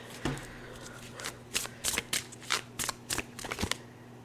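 Tarot cards are shuffled close by in a quick run of crisp riffling snaps and flutters, with no talking over them.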